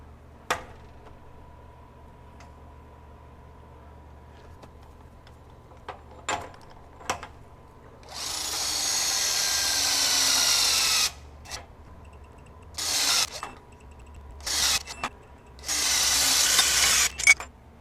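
A RYOBI 18V One+ HP compact impact wrench runs at torque settings from 100 to 250 foot-pounds. It gives one long rattling burst, then several shorter bursts, close and loud, between quiet gaps with faint clicks.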